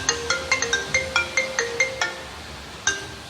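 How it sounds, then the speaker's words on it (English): A mobile phone ringtone rings loud and close in a quick run of repeating bright electronic tones, pausing briefly before starting again. The call is placed from a cloned 3G/4G SIM to a third phone. "This phone will be ring"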